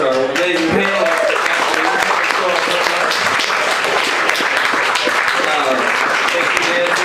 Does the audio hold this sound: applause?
yes